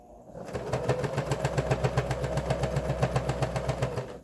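A sewing machine runs a straight stitch on a fabric face mask, its motor whirring in a steady, rapid rhythm of even pulses, close and moderately loud, with no talk.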